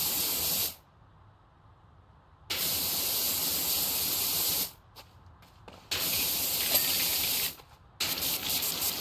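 Pressure washer spray in PowerWash Simulator, loud close hissing bursts that cut on and off in several blasts separated by short quiet gaps.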